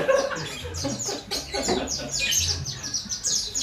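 A pleci (white-eye) songbird chirps in quick bright bursts and short trills, repeating through the moment, close and fairly loud with some low background rumble.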